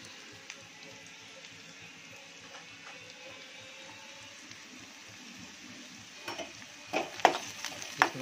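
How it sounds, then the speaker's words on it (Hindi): Onions frying in a pan in a home kitchen, a soft steady sizzle throughout, with louder stirring clatters and crackles near the end. "थोड़ा सा भून लेंगे प्याज को"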